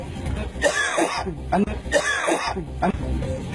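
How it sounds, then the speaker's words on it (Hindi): Two harsh, raspy coughs, close and loud, each broken into short rough bursts with a brief pause between them. "आपकी खांसी क्यों नहीं ठीक हो रही?"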